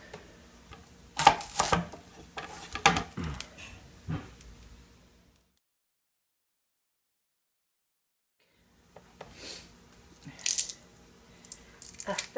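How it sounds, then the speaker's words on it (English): Knife chopping onions on a board for beef and barley soup: bursts of quick, sharp, near cuts, a long silent pause, then more chopping. "we're going to cut up the onions and press the garlic first"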